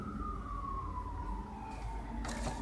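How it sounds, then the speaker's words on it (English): A siren wails with a slowly falling tone, fairly faint and distant, with a burst of noise near the end. "Remember, when you hear that siren,"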